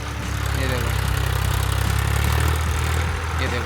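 A tractor engine runs steadily while plowing a field, a loud, low, continuous chugging drone that holds throughout without a break.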